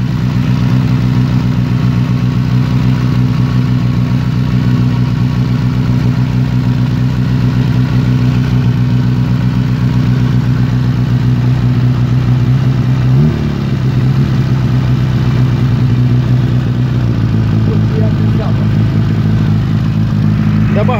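A GAZ-69 engine running on a test start, a loud steady low idle rumble with choke on, holding a continuous drone with slight shifts in pitch partway through.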